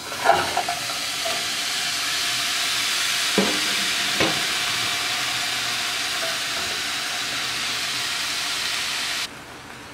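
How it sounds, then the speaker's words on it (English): Thinly sliced steak sizzles steadily in a hot pan, a continuous bright frying hiss lasting throughout with a couple of brief clatters partway through, no talking. "While the steak is cooking"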